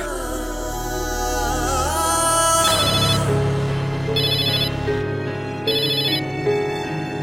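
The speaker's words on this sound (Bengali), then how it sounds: "আঁচল ফোন করেছে।" A phone ringtone plays clearly, a melodic electronic tune with repeating bright chiming bursts, loud and close with no talking.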